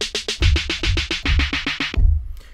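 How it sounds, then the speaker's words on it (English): A rapid, evenly spaced pitched snare roll made with note repeat in Logic Pro X, about fifteen crisp hits with a buzzy ring, ending in a final louder stroke that fades out. "that'll give you a sort of an idea of what a pitch snare roll is."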